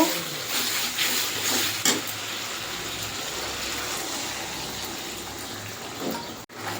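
Water is poured into fried spices in a pan while potato paneer curry is cooked, giving a steady, close hiss and gush for several seconds, with a short sizzle-like burst near the end.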